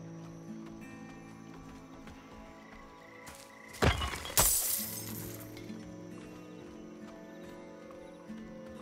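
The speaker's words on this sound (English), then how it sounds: "That dude following me because I hear some footsteps." Footsteps in the action game Diablo IV, a few loud heavy impacts clustered near the middle over steady ambient game music and background tones, with crunching, glassy transients around them.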